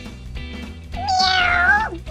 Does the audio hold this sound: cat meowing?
yes